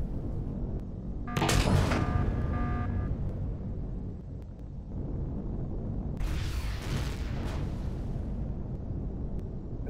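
Cannon turrets fire and explosions boom in the space survival game Empyrion Galactic Survival, with two loud bursts a few seconds apart that each fade into a rumbling tail.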